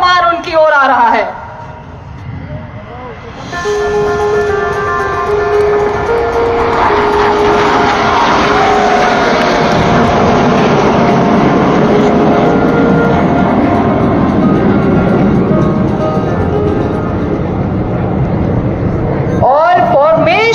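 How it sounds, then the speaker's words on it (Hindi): Surya Kiran aerobatic team jets pass overhead during an air show rehearsal in Hisar, a loud roaring engine sweep that builds and holds for many seconds, with a commentator talking over it. "लेकिन जरा बाईं तरफ देखिए, ये कौन सा विमान उनकी ओर आ रहा है।"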